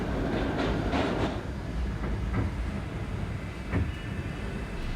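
An R32 F express subway train running, with steady loud rumble and rhythmic clickety-clack of wheels over rail joints, heard from on board with no talking.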